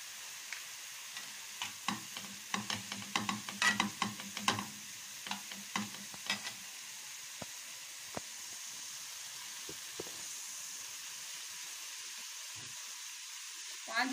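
Minced meat frying in a pan with a soft sizzle and hiss, broken by clustered scraping and stirring clicks early on that thin out to sparse taps later; fairly quiet with faint background.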